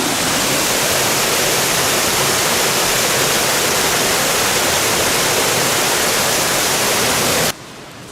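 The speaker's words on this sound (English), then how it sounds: "I give it a couple feet to fall and it suddenly turns into like a boiling cauldron" A steady, close rush of falling water, a small creek dropping a couple of feet into a churning pool at a micro-hydro intake, spilling continuously before cutting off abruptly near the end.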